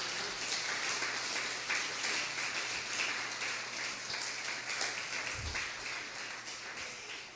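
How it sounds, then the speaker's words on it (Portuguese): A church congregation claps continuously for several seconds, a dense, steady wash of hand claps that slowly fades slightly toward the end, with no voices over it. "Palmas bem alegres para Jesus"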